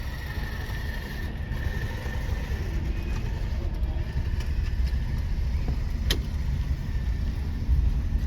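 A car with a manual gearbox pulls away from a stop in first gear during a driving lesson, its engine giving a steady, moderate rumble that holds evenly throughout, with no talking.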